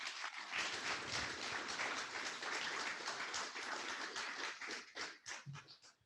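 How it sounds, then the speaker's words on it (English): A round of applause at a Rotary weekly hybrid meeting, dense overlapping clapping filling most of the moment before tapering off into scattered claps at the end. "round of applause?"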